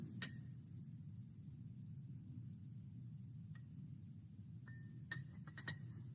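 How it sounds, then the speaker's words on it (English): A magnet rolled around the outside of a drinking glass, giving a handful of faint, sparse glassy clinks and ticks over a low background rumble, mostly near the end, with no talking. "And I'm just rolling the magnet around the glass"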